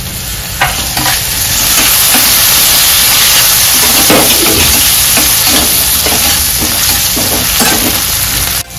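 Curry leaves and a small bowl of peas sizzle and fry loudly in a hot pan, a continuous close hiss with occasional stirring scrapes and no talk.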